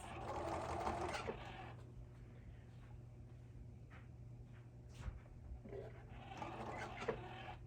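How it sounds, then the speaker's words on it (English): A sewing machine runs in two short bursts while stitching a quarter-inch seam on a fabric cosmetic bag. The whirring is quiet and steady, with a low, near hum in between and no voices. "And then I just keep sewing."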